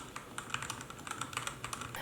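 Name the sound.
clicky Outemu mechanical keyboard switches being pressed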